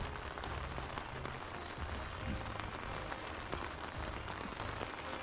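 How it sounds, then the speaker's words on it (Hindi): Steady rain drums on a tent during solo overnight camping in farm fields, a dense, even patter with scattered louder drops, close and continuous with no voices. "टेंट के अंदर आते के साथ भाई बारिश थोड़ा सा तेज हो गया है"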